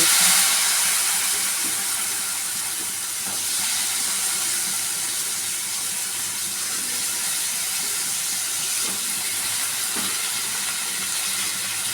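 Vegetables including okra and potato hitting a hot pan with turmeric and chili powder, giving a loud, steady hissing sizzle that slowly settles, with no voices.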